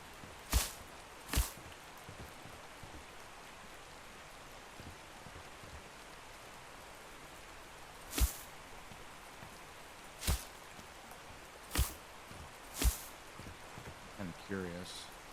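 Rain falls steadily as a soft, continuous patter and hiss, faint and even throughout, broken by several sharp, louder clicks and thumps at irregular intervals.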